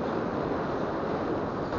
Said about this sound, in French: En plus, on entend le vent.